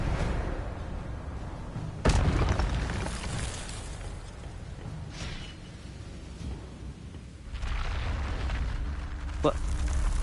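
An Expelliarmus spell is cast in a Harry Potter video game, with one sharp, loud magical blast followed by a rumbling burst and lighter crackles, under a voice in the background.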